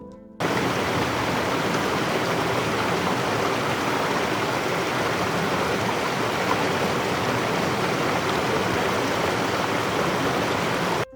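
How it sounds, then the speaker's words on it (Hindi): A mountain stream near Taobat in the Neelum Valley, Kashmir, rushes steadily and loudly close by, a constant even roar of flowing water with no voices. "एक और दरिया जो ताओ बट के दरमियान बहता हुआ नीलम रिवर की तरफ बढ़ रहा था।"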